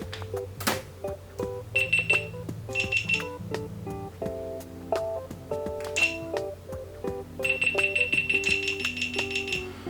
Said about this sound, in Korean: 얘는 삐삐삐 하는 순간부터 촬영을 시작을 하는 거고